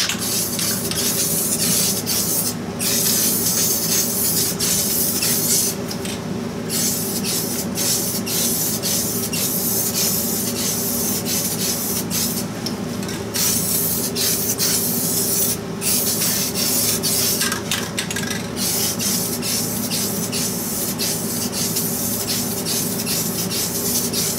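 A spray of finish mists steadily onto a wooden stool being shortened in a workshop, a loud continuous hiss with brief pauses and bursts as the sprayer is loaded on heavily.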